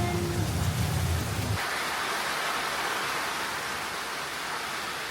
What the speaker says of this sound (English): Well, the rain's here.